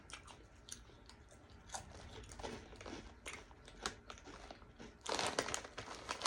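Andy Capp's Fire Fries, a crunchy fried snack, crunched in repeated crisp bites, close to the mic. The crunching starts soft and sparse, then turns into a loud burst of chewing near the end, with no talk.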